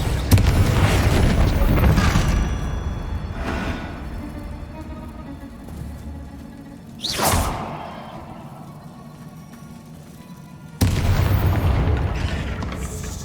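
A Confringo fire spell bursts in the Hogwarts Legacy video game, a heavy boom followed by a swelling whoosh and a second loud blast near the end, set against rumbling game combat ambience.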